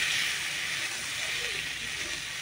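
Fish pieces dropped into hot oil give a steady, loud broadband hiss of sizzling that holds evenly throughout, with no voices.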